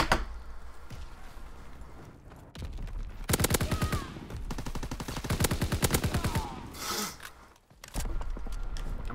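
Video game gunfire, likely including a shotgun, erupts in rapid, loud, close bursts of repeated shots, with a short lull before another volley near the end.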